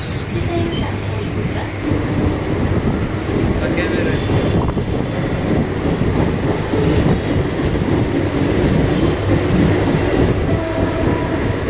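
A Mumbai local train pulls into Churchgate station, its loud rolling rumble and clattering wheels running steadily close by while people talk underneath the constant rail noise.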